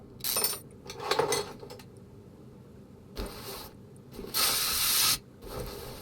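Simulated ratchet wrench in Car Mechanic Simulator 2021 taking off camshaft bearing caps: several short bursts of rapid mechanical clicking, loud and close, separated by quiet gaps, with one longer whirring run near the end.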